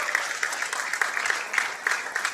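A pool hall crowd claps after a player's break and run at a world team championship match, a short burst of dense applause with no cheering on top.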